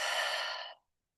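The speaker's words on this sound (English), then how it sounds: "full breath out." A full, steady exhale through the mouth during gentle yoga breathing, a soft airy rush lasting most of a second before tapering off into silence, close and quiet.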